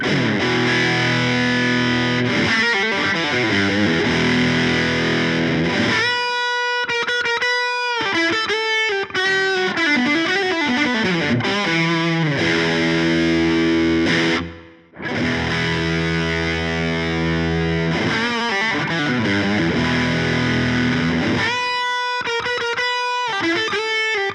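An electric guitar runs through a Wampler TCD Compulsion Drive or Fulltone OCD overdrive pedal, playing loud, thick distorted chords and riffs with sustained crunch, a brief pause midway, then more heavy driven strumming.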